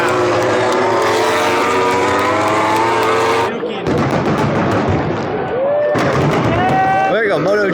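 MotoGP race bikes at COTA in 2024 scream past, engines loud and high-revving, with gear shifts and a brief dip between passes, a second bike rising in pitch as it nears.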